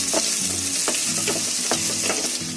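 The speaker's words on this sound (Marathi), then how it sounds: "इथे आपलं फ्राय होतोय. कांदा लसूण आलं मिरची." Garlic, ginger, green chili and onion frying and being stirred in a pan for homemade Schezwan chicken, a steady loud sizzle broken by repeated scraping strokes of a spatula, with no voices.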